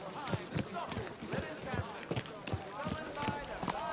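Horse hooves clip-clopping in Kingdom Come Deliverance II, a steady, even rhythm of hoof strikes close by, running under a voice talking throughout.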